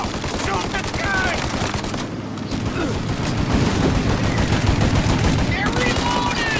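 Gunfire in a shootout in Mafia Definitive Edition: dense rapid bursts of automatic fire and shots, loud and close, nearly continuous with a brief lull around two seconds, with shouted voices mixed in.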